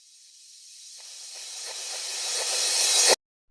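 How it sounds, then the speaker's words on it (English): Reverse crash cymbal sample from the same electronic drum kit, a hissing wash swelling steadily louder over about three seconds before cutting off abruptly, alone. "we'll add a reverse crash, which is from the same kit"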